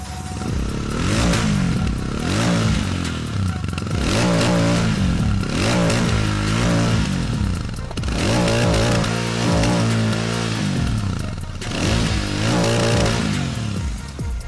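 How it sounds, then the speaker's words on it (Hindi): Royal Enfield Super Meteor 650 motorcycle revved repeatedly: the exhaust rises and falls in throaty surges about every two seconds, loud and close with a rumbling idle between revs and no talking. "अब चला रहे हैं हम रॉयल एनफील्ड की मीटियोर, सुपर मीटियोर 650 और इसका एग्जॉस्ट नोट आपको एक बार मैं सुनाना चाहूंगा।"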